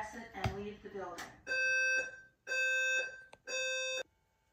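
Notifier NFS2-3030 fire alarm system sounding in a building: three loud, sustained electronic tones with short gaps between them, following a recorded voice announcement.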